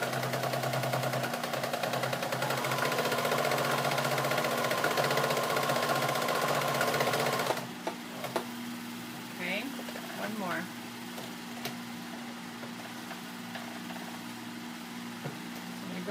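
A sewing machine stitching a denim apron made from old jeans runs steadily with a loud mechanical whir for about seven seconds, then stops, leaving faint clicks and quiet handling noises.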